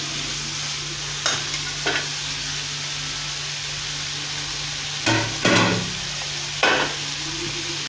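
Small onions fry in a pan for a beef curry, giving a steady close sizzle broken by a few scraping stirs of a spoon.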